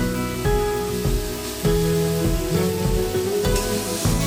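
Chicken kasha stirred in sizzling spices in a pan gives a hissing fry with a few scraping knocks of the spoon, partly masked by louder background music.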